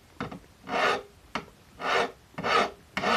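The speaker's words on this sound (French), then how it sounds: "Et avec une lime, avec un angle d'à peu près 45 degrés," A hand file rasping along the metal edges of a piece held in a vise at a forge, worked at about a 45-degree angle: four long, even strokes with brief clicks between them, close and clear.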